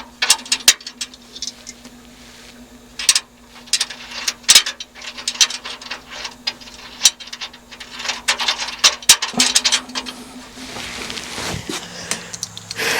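Ratchet wrench with a 9/16 socket tightening an acorn nut during an outdoor boiler repair, rapid clicking bursts in uneven strokes with sharp metallic knocks between them, close and fairly loud.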